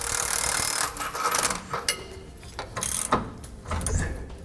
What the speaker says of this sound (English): We use a 15/16 wrench and socket.